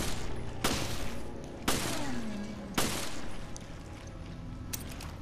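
Gunfire in Resident Evil: Revelations: sharp, loud shots at irregular intervals, about four main blasts, each ringing out over a dense, continuous game soundscape, with no talking.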